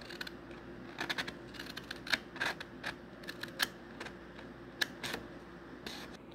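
Paper cut by hand with scissors while making a simple paper bag: crisp, irregular snips and clicks up close, spaced unevenly across several seconds with a soft steady hiss beneath and no voices.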